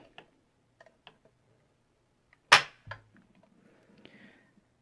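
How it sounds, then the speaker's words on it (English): Trigger pull on a Century Arms NAK9 9mm carbine measured with a trigger gauge, faint small clicks followed by one sharp mechanical snap and a softer secondary click, close and otherwise quiet. "let's see how much this trigger weighs. Alright, first pull."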